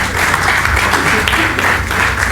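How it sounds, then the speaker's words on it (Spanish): An audience applauds a guest speaker introduced at a medical risk-management conference, a loud, sustained wash of many hands clapping with no break. "Entonces realizamos con un aplauso al doctor Carlos Alberto Ramírez."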